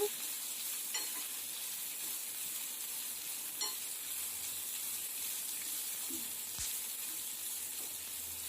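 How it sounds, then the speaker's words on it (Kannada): Dried red chillies and Byadgi chillies frying in oil for a jeera sambar, a faint, steady sizzle with occasional soft stirring clinks and a small pop, nearby and without talk. "ಒಂದು 5-6 ಒಣಮೆಣಸಿನ್ಕಾಯಿ, ಒಂದು 3-4 ಬ್ಯಾಡಗಿ ಮೆಣಸಿನ್ಕಾಯಿ ಹಾಕೊಂಡು ಫ್ರೈ ಮಾಡ್ಕೊಳ್ಳೋಣ."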